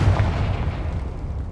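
Confringo spell explosion in Hogwarts Legacy, a single heavy boom with a deep rumbling decay, loud and close.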